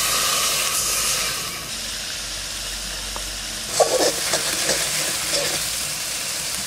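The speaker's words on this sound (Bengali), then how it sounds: "সামান্য একটু জল দিয়ে দেবো, নিয়ে মশলাটাকে ভালো করে কষাই নেব" Onion and spice paste with a little water sizzles in a pan for a fish malai curry, a steady close frying hiss with a few sharper spits and scrapes midway and no talking.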